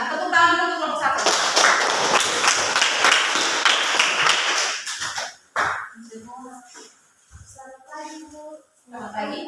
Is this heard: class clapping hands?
yes